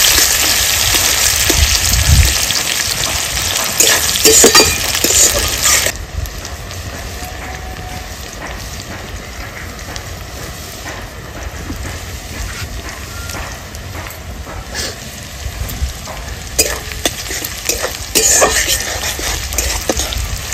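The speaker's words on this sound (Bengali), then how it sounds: "পেঁয়াজ কুচি, ভালো করে ভেজে নেব" Chopped onions frying in a pan for a spicy bean and potato curry, a loud rain-like sizzling hiss for the first few seconds that drops to a quieter simmer with scattered crackles and pops.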